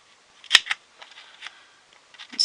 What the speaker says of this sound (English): I'll take my scissors and I'm going to snip that